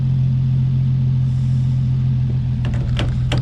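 A Nissan 350Z on its first drive after its motor was reassembled gives a steady, loud low engine drone, with a few sharp clicks and knocks near the end.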